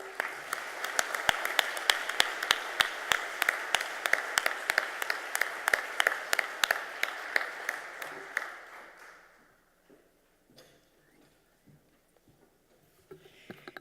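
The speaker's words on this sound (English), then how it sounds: "Please join me in giving them a round of applause." Audience applause at a technology project delivery awards ceremony, a dense steady clapping for about nine seconds that then thins out and fades to scattered claps and quiet.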